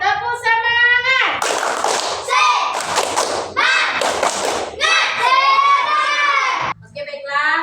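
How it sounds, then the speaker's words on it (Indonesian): Schoolchildren in a classroom do the 'tepuk semangat' clapping cheer, with bursts of hand claps and thumps mixed with loud, lively children's voices chanting along through most of the clip. "mari kita bersama-sama tepuk semangat"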